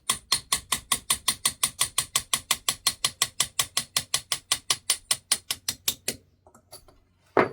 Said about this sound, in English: I'll just get a little punch and tap them.